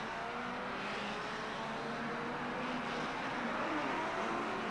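1957 Formula 1 race cars at the German Grand Prix, including the Formula 2 Porsches, roar past in a continuous dense engine drone with crowd-like ambient noise, steady and fairly distant throughout.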